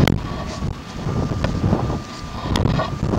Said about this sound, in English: Oh, that wind.